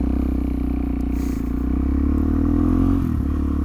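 A motorcycle pulls away from first gear as the clutch is slowly released on a corner, its steady low engine drone rising slightly in pitch, close and continuous throughout.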